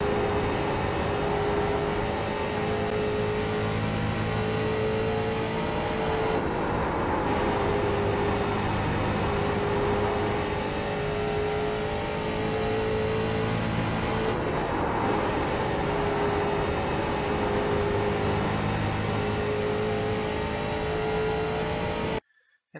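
A street stock race car laps Bristol Motor Speedway in iRacing, its engine droning loud and steady at high revs. Two brief dips in pitch come as it moves through the turns, and the sound cuts off abruptly at the end.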